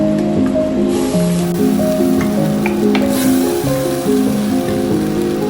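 Creamy white pasta sauce is stirred in a pan, giving soft wet squelches and scrapes over a low sizzle, close and fairly loud, with no voices.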